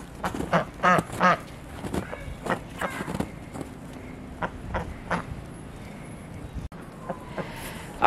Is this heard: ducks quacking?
yes